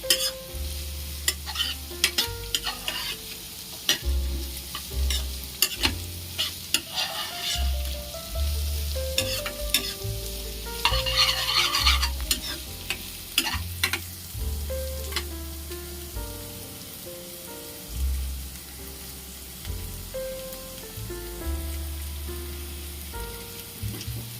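A utensil scrapes and stirs through momo filling in a pan, with rhythmic clatter and a soft sizzle continuing throughout, no talking.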